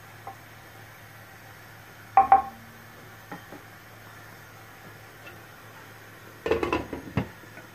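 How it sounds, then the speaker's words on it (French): A metal cooking pot holding a prune and raisin tajine has its lid set back on, giving a brief clatter, then a longer cluster of clanks and rattles against a low steady background hum. "je vais donc refermer ma marmite"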